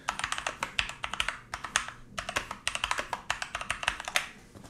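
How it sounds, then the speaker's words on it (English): Typing on a Keychron K2 V2 mechanical Bluetooth keyboard, rapid close clacking keystrokes in uneven bursts with brief pauses between runs, no talking. "the keyboard sounded like that"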